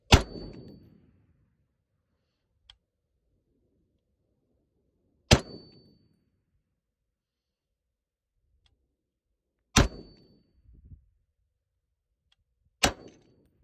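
M1A rifle shots ring out one at a time, four sharp, loud cracks spaced several seconds apart, each trailing off in a brief echoing tail, with near silence between.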